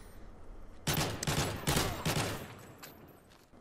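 Bursts of sprayed gunfire in the shooter game Modern Warfare 3, with four quick loud volleys in under two seconds before the shots fade into a quieter tail, and no talking.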